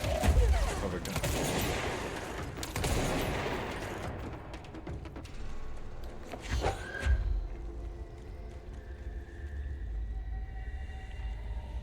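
Enemy gunfire in the action game Control: heavy, rapid bursts of shooting with booming impacts in the first few seconds. Scattered shots and a lower rumble follow, and a voice briefly speaks.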